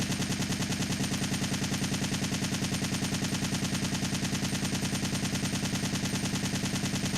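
An assault rifle with infinite ammo fires in a Resident Evil video game. The loud, continuous automatic burst runs as an unbroken rapid rhythm of shots for over seven seconds, with no voices.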